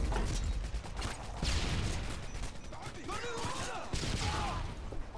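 Rapid, dense gunfire from the video game Modern Warfare 2 crackles in continuous bursts over a busy, noisy battlefield, with mechanical clatter mixed in.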